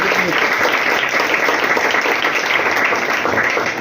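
Crowd applause for Balasaheb Borate at a birthday celebration held at an institution, a dense, loud burst of many hands clapping steadily throughout, close and sustained.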